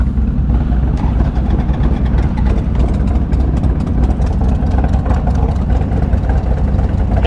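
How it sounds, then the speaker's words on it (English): Close, loud Harley-Davidson motorcycle engine with an aftermarket cam, idling while warming up with the choke fully out: a steady, heavy, loping rumble with irregular beats throughout, no voices. "That's how a Harley should sound."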